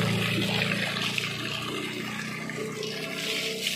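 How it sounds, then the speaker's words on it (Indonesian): Water splashing and pouring steadily over an RX King motorcycle, a continuous wet hiss and trickle at close range with no talk. "siram-siram motor ya"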